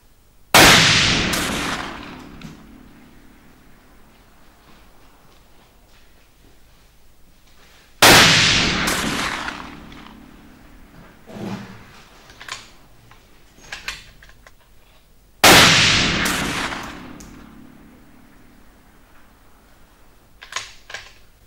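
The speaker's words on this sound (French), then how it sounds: "Il y a trois balles de tirer à la distance de 100 mètres." Three loud rifle shots from a CZ 557 chambered in .30-06 Springfield, firing Whitetail ammunition at a 100-metre range, spaced several seconds apart, each a sharp crack with a decaying outdoor echo and some smaller knocks in between.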